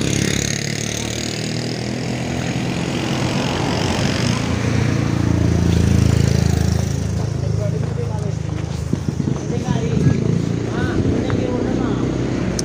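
Steady low rumble of a generator set powering a Jember battle sound system rig on a Fuso truck, heard outdoors across a street under continuous nearby talk.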